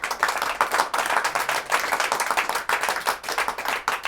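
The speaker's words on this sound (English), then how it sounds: "Does anyone in the audience who can applaud?" A studio audience applauds at a taped show, a dense, steady patter of many hands clapping at once, close and continuous for several seconds with no talk over it.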